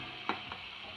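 Potatoes and taro stir-fried in a spiced gravy, a faint brief sizzle with two soft scraping stirs of a spoon, close and quiet.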